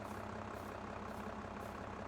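Front loader tractor in a farming video game, with a Flegel shredder bucket mounted. The engine idles as a faint, steady low rumble with a slight throbbing pulse and holds constant throughout.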